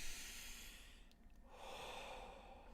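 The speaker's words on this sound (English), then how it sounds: "inhale, exhale" Slow breathing during a meditation, a long audible inhale followed by a soft sighing exhale, close to the microphone over faint background hiss.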